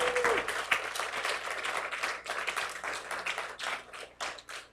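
A church congregation claps together in a hall, many hands producing a lively, continuous patter that swells and thins over a few seconds, close and moderately loud, with a faint voice in the background.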